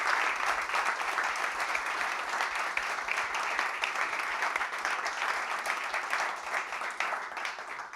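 An audience applauds at an International Men's Day session, a dense, steady round of clapping that fills the room and holds throughout.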